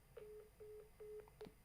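A phone call fails to connect, giving four short, evenly spaced beeps in a quick rhythm, faint and clean with no talking over them.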